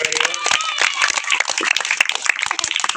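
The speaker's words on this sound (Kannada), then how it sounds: "ಚಪ್ಪಾಳೆ ಒಂದ್ಸರಿ ಜೋರಾಗಿ ಎಲ್ಲರೂ." Energetic applause from a crowd at a magic show, dense clapping filling the whole stretch at close range, with a voice briefly audible at the start.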